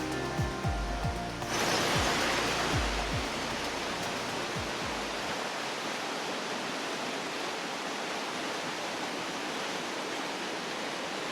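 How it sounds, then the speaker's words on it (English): A small, weak waterfall on Sweet Creek Falls Trail in Oregon gives off a steady, broad rushing hiss. A few low thumps come at the start, and then the flowing water continues evenly on its own. "That's a weak waterfall."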